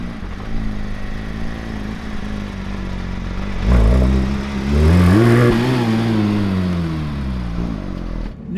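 Porsche GT3 RS naturally aspirated engine on a test drive, a steady close cabin drone that swells into a rising rev around the middle before settling back, loud and continuous.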